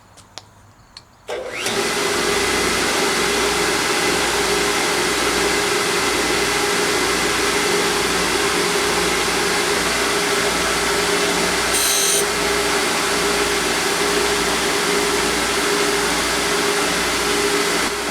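A surface grinder runs up after a short quiet moment and grinds a steel chamfer fixture, giving a loud, steady whining hum with a sustained high hiss that continues to the end, with no talking.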